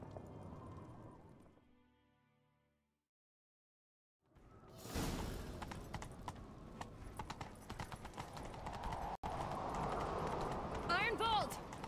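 A horse gallops in the video game Witcher 3 during a chase. Rapid, loud clip-clop hoofbeats with swishing whooshes follow a short quiet gap after fading game ambience.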